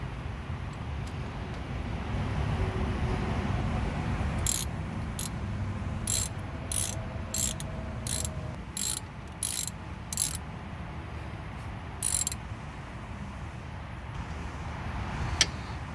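A ratchet wrench tightens a bolt on a 2006 Honda CR-V brake job, giving several bursts of quick clicking, close and clear, over a low background hum.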